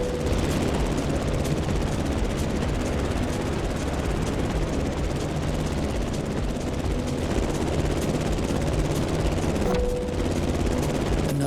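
Loud, continuous engine roar of an airplane in the video game The Crew Motorfest, a dense droning rumble with a rapid chopping texture, steady and close throughout with no speech.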